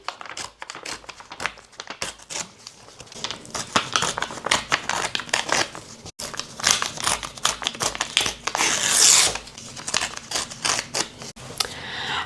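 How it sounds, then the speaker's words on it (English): Paper is torn slowly along a ruler in a long run of rough crackling rips, close up and moderately loud, with a brief pause partway through. "I've just got a ruler and I'm just going to rip along"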